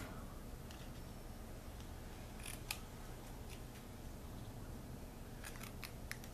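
Scissors snip and trim the end of a paper-wrapped stamping craft piece at a kitchen table, a few short crisp cuts over a steady low room hum, fairly quiet and close.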